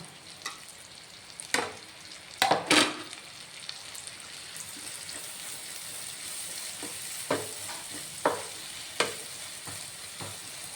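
Two medium onions, sliced lengthwise, sauté in hot oil with a steady soft sizzle. Several sharp clinks and scrapes from stirring cut through it, and no one speaks.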